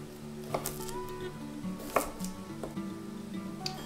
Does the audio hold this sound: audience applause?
no